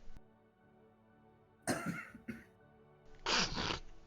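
A single person coughs sharply twice, close and loud, then a third heavier cough follows after a short quiet pause, with no talking around them.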